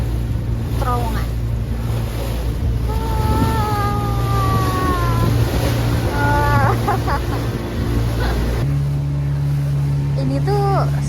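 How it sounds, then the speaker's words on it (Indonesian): A boat moving on a river through choppy, sea-like waves, with steady motor drone and wind noise, while people talk and call out excitedly over it. "tapi dia kayak ombak kayak di tengah laut gitu"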